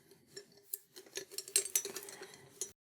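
A glass stir stick with two different-sized ends tapping and clinking against objects, a scattered series of light, close, crisp clicks and chinks with short pauses.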